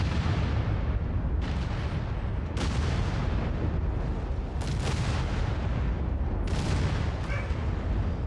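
Mech weapons firing in the video game MechWarrior 5: a dense, loud, rumbling barrage with heavy booming bursts recurring every second or two over continuous roaring noise, and no talking.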